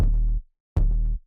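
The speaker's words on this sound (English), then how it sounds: "This is the 808 vibes, and it sounds like this." Two sustained 808 bass synth notes with no effects, each deep and booming for about half a second, separated by a short silence, played alone for a dark atmospheric track.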